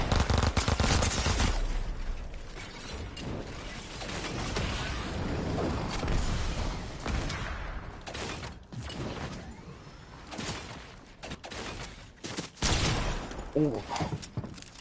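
Sniper gunfire in a battle video game comes as sharp shots and mechanical reload clicks, scattered over a steady loud background of game noise, with a player speaking over it.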